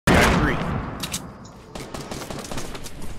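Gunfire in the video game Fortnite: a loud burst of rapid shots opens, followed by a scattered string of quicker, lighter shots, with faint voice chatter underneath.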